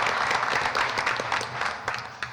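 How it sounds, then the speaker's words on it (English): A community meeting audience at a mayor's evening event claps for an engineering firm guest, a short burst of moderately loud applause thinning toward the end. "Could you give him a big round of applause, everybody?"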